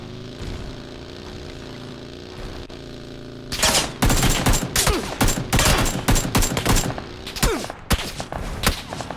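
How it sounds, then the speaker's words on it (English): Gunfire in the video game PUBG: after a few seconds of low engine-like drone, rapid bursts of automatic fire and single shots crack loudly and irregularly, close by and dominating the rest of the stretch. "Who's shooting?"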